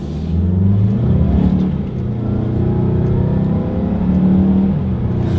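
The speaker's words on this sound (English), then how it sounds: "let's test out the acceleration here on the CX-5, and let's see how quickly we can get this one here up to speed" A 2020 Mazda CX-5 accelerating hard, its engine droning loudly and steadily as it pulls up to speed, with a slight change in pitch partway through that suggests a gear shift.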